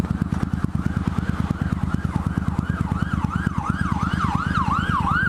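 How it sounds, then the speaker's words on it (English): A wailing fire truck or ambulance siren rises and falls over a loud rumbling engine, growing louder and more insistent as the vehicle passes close by. "A fire truck, an ambulance, another fire truck, and a fire SUV."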